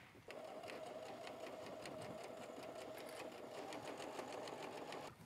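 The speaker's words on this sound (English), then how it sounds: "sandwich it and then sew that 1/4 inch seam" Sewing machine stitching a quarter-inch seam on a small quilted kitchen mini mitt, running steadily with a rapid even needle clatter, close and soft, alone without talk.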